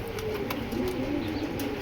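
A female Belgian racing pigeon coos in low, soft, continuous throaty tones, close by, with no voices.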